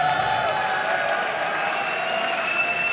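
A large crowd at a League of Legends LCS esports event applauds and cheers, a dense, steady wash of clapping with some high cheering.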